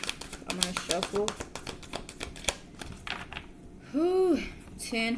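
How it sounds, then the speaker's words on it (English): Tarot cards are shuffled with rapid riffling clicks and flicks, close and crisp, while a person speaks over them. "I'm going to shuffle."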